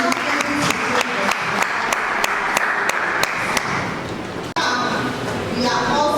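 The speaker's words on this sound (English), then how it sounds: "Please let's clap for ourselves." Symposium audience applauds with steady clapping while a few sharp claps stand out, loud and fairly close. The applause breaks off abruptly, then builds again.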